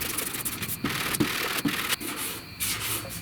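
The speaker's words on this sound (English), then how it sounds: "So I got to sand up here and bring that crease down." A hand sanding block rasps over a body filler crease on a truck cab corner. Close, rough strokes come in a quick rhythm of about six passes, with short pauses between them.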